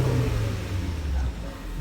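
A 2013 Porsche car, recently repaired after an accident, with its engine running and revving in a steady loud rumble that dips slightly near the end.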